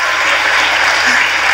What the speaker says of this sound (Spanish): Fuerte el aplauso para Caresli, por favor.